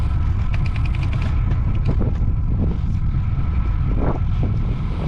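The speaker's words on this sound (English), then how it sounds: "Wind on our backs along here, it's very nice." Steady wind buffets the microphone while cycling along a country road, a constant low rumble filling the whole stretch with no talk.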